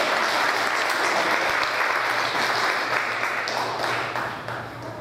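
Sustained applause from a ceremony audience at an Atlanta Korean community Liberation Day commemoration, dense steady clapping filling the room and tapering slightly toward the end.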